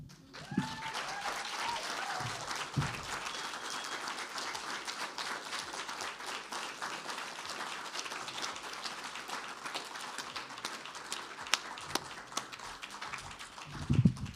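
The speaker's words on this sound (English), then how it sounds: "We have another big round of applause for Hieu Minh Nguyen, please." Sustained audience applause after a poetry reading at a faculty presentation, dense steady clapping from a crowd lasting throughout, with a few voices briefly heard at the start and end.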